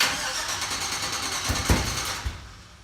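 A 1966 GMC C10 pickup with an LS swap engine cranking over, a steady rhythmic starter whir that runs for a couple of seconds with a few louder thumps near the end, fairly quiet and close.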